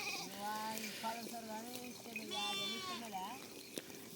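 Sheep bleat repeatedly in quavering calls at close range while grazing among trees in hot sun, with several animals overlapping and steady outdoor background noise.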